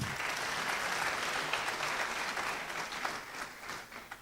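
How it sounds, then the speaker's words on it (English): Graduates at the Cyber Shujaa 5th graduation ceremony receive a steady round of audience applause, a continuous wash of many hands clapping at moderate distance, with no talk over it. "A round of applause for you guys."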